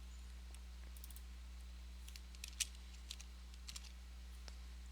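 Sparse, faint keyboard clicks from typing on a computer keyboard during drafting software work, scattered irregular keystrokes over a steady low electrical hum with no talking.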